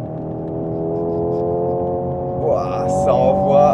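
Hyundai Ioniq 5 N electric car accelerating hard on a circuit, a steady rising whine under the cabin with swelling engine-like tones and a brief voice exclamation near the end.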